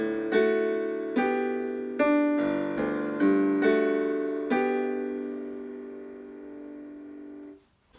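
Solo piano plays the opening of a song, a few slow struck chords spaced about a second apart that ring out and fade, clear and close with no voice.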